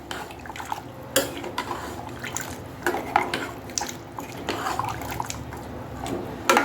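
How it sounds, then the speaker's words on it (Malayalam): Chickpea curry stirred in a pot, irregular clinks and scrapes of a utensil against the metal with wet, sloshing sounds between them, close and moderately loud. "കടലയൊക്കെ എടുത്ത് നല്ലതുപോലെ മിക്സ് ചെയ്തിട്ട്"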